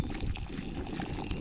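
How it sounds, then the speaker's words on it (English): Pot of water at a rolling boil on a campsite stove, a steady close bubbling and churning that runs without pause and stays fairly loud throughout. "Got that water to a rolling boil."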